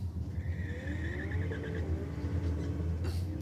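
A BMW SUV launches down a drag strip, with a continuous engine roar, a rising tire squeal and a sharp burst near the end, heard at moderate distance.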